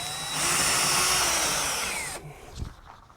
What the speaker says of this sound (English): I'm going to start drilling some holes